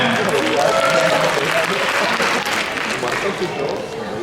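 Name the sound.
loud audience applause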